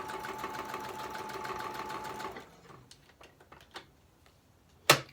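Sewing machine stitching paper ephemera: steady fast whirring run for about two seconds, then stops, followed by a few soft handling clicks and a sharp knock at the end.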